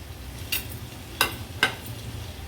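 Peas and Amul paneer being stirred into a gravy in a pan: three distinct scraping strokes of a spoon against the pan, spaced roughly evenly, over a soft low sizzle.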